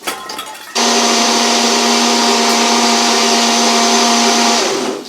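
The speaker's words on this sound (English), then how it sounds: "So the blending part is over." A kitchen blender runs loud and steady, grinding food for about four seconds with a constant motor whine before spinning down, after a brief quieter start.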